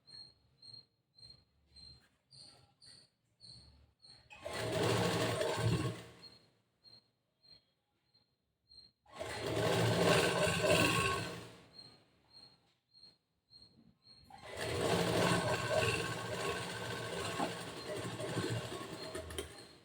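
A sewing machine stitches folded fabric on a boat-neck blouse in three separate bursts, each a few seconds of dense whirring. Faint clicks and handling noises fill the gaps between them.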